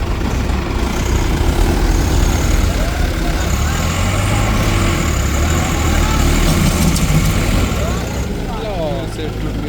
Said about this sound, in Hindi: ये ट्रैक्टर फिर से हो गया भाई चालू